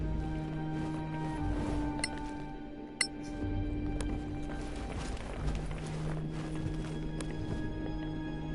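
Horse hooves clip-clopping in the fantasy role-playing video game Solasta, a steady rhythmic patter of hoofbeats over a sustained music bed, with a brief metallic clink partway through.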